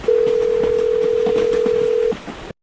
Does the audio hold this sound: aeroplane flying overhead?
no